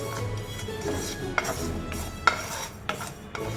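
Black and white sesame seeds being dry-fried in a pan, with a spoon scraping and clinking against the metal at irregular intervals over a soft, low background.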